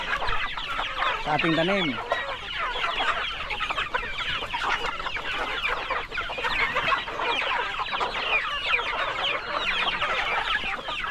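Chickens cluck steadily and close by on a farm, with a rooster's wavering call rising briefly near the start; a person speaks faintly under the continuous flock noise.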